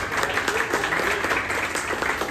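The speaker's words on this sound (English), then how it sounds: "So Sheldon, Giacomo, Andy, give them a big round of applause." Audience at a community-building talk breaks into steady, dense applause, close and continuous throughout with no clear speech.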